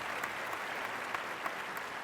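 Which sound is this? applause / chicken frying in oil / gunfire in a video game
applause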